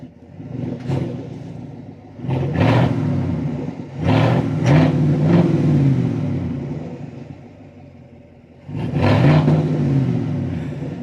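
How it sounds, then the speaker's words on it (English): A Chevrolet Silverado Trail Boss pickup engine revs up several times in bursts, rising and falling between rumbling idle stretches, fairly loud and close. "The truck sounds good."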